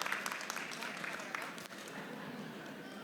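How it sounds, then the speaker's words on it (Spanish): An audience at a technical training conference claps for Sofía, a moderate wash of applause that fades slightly partway through, with voices talking over it. "Un aplauso nuevamente para ella."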